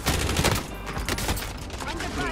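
Gunfire in the video game Warzone, a dense rapid burst of shots crackling through a short, loud stretch, with a voice briefly under it.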